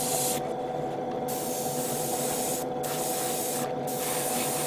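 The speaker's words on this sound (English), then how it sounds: "I just spray paint" Aerosol spray paint hisses in continuous bursts, close by, with a few brief breaks between sprays, applied in light layers to a plastic Gundam model kit.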